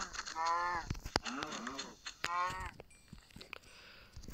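Cows mooing in a Minecraft-style video game, several drawn-out low calls repeating over a few seconds with clicks and game noises between them.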